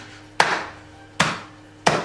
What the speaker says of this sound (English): I literally am just going to grab a hammer and just bang away at the candy canes until they're all crushed.